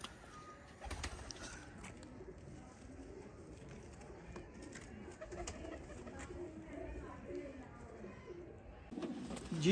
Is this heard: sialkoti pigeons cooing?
yes